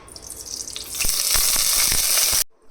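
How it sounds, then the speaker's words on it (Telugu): Hot oil in a cooking pot for Kashmiri dum aloo sizzles and crackles steadily, growing louder and busier partway through before cutting off abruptly, close and without speech. "ఇప్పుడు ఆయిల్ హీట్ ఎక్కింది."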